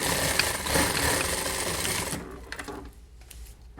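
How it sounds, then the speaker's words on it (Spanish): A sewing machine runs at steady speed stitching an angled seam on trousers, a dense rapid whirring chatter for about two seconds, then stopping to quiet handling clicks of the fabric. "hacemos la misma costura en ángulo que le acabo de pasar para colocarlo sobre la tela del fondo"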